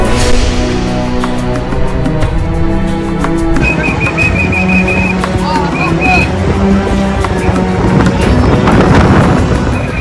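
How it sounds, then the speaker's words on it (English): Strong wind buffets the microphone on the Giza plateau near the Great Pyramid, a loud continuous rumble and roar, with a voice talking over it amid distant whistles and crowd commotion. "The wind's really strong here on the plateau"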